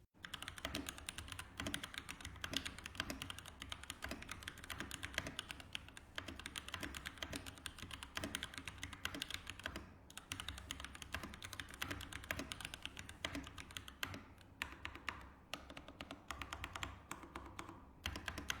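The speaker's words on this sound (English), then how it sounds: "With the Gateron G Pro Brown switches installed, the typing noise is quiet." Quiet, continuous typing on a Keychron K14 mechanical keyboard with Gateron G Pro Brown switches, soft, muted keystrokes in a fast, steady rhythm, close to the microphone.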